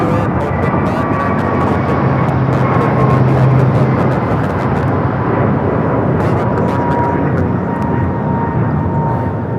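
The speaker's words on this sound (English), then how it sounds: "This is American Airlines 1590 taking off to Charlotte on the A321neo." An American Airlines Airbus A321neo takes off, its jet roar loud and steady throughout, a broad continuous rumble with a faint whine riding over it, no voices.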